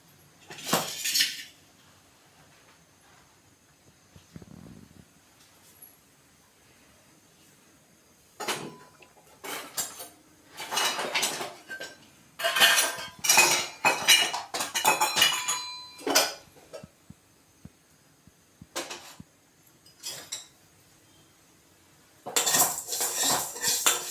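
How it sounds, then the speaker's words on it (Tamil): Green gram (moong dal) roasting in a hot vessel, heard as bursts of metallic scraping and clinking of a spoon against the pan, irregular and close, separated by quiet pauses, with no talking. "அந்த பச்சை பருப்பை ரோஸ்ட் பண்ணிக்கோங்க ஒரு 2 நிமிஷம்."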